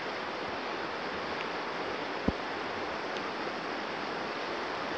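The White River flows beside a rainy forest hiking trail, a steady, soft, distant rushing hiss that stays even throughout, with a single faint knock partway through.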